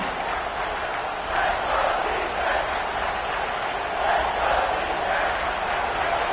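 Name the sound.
football stadium crowd cheering at fever pitch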